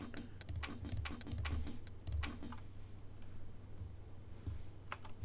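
Sharp keyboard-like clacks from mouse clicks in a hitscan shooter game client come in quick bursts, each followed by a low snare-drum thump, then fall to sparser ticks; fairly quiet, with no talk.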